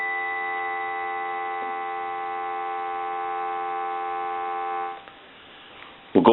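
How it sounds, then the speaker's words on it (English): A steady, continuous dial tone from a Western Electric 302 rotary telephone hums for about five seconds, then cuts off, followed by a short click. "We'll go ahead and give you some dial tone."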